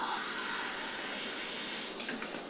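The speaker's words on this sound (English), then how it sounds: "We'll dump this in, 2 cups of water" Two cups of water pour into a pot in a kitchen, a steady close splashing rush with no voices, easing slightly near the end.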